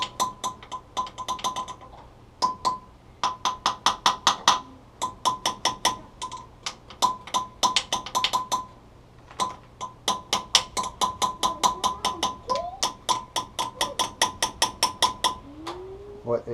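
A hand ratchet on a Willys Jeep nut clicks back and forth in rapid, evenly spaced runs with brief pauses, sharp and close, as the stuck nut is worked free; faint voice and scraping sounds occasionally underneath.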